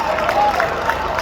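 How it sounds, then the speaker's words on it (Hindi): A brief burst of crowd clapping and murmuring at a Hindi poetry festival gathering in Azamgarh, a steady, moderately loud wash of applause with no clear individual claps standing out. "तालियां बहुत कमजोर हैं आपकी"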